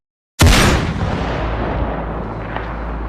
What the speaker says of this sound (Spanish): El fuerte y ensordecedor disparo de Mosquera hizo que todos dieran un salto